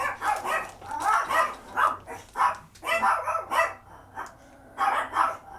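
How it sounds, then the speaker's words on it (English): Several dogs barking in short repeated bursts with yips, fairly close and loud, keeping up a steady uneven rhythm throughout. "Oh, there goes the doggies."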